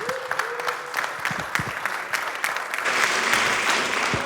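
An audience at a Berlin cannabis business conference breaks into applause to welcome the head of the German Hemp Association to the stage, a steady patter of clapping that grows fuller and denser toward the end, with a brief voice under it at the start.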